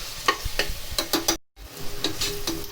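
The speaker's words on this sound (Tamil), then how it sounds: "வெங்காயம் நல்லா வதங்கிடுச்சு." Onions sizzle as they sauté in a pan, with repeated stirring scrapes at an irregular rhythm and a brief silent gap midway, heard close and alone.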